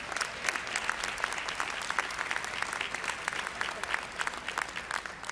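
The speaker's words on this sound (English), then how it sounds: "Give Mrs. Robinson a round of applause" Audience applause fills a convocation hall, a dense steady patter of many hands clapping together, fairly faint and continuous throughout with no break.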